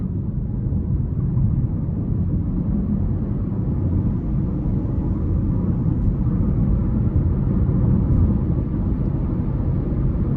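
A 2024 Buick Envista with a 1.2-liter turbo three-cylinder engine and six-speed transmission drones steadily under light throttle, a dense low rumble with road and cabin noise holding level throughout.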